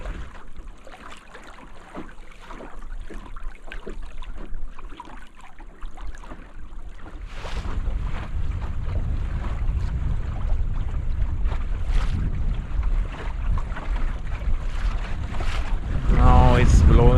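Strong, gusty wind buffets the microphone aboard a canoe yawl sailing on a wavy bay, a rough roar that builds louder and heavier over the water, with waves slapping the hull and a faint voice at times.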